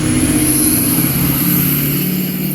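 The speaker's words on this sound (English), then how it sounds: "Sorry, that was a loud car." A loud car drones close by with a steady engine rumble and a high whine that holds at an even level, with no voices.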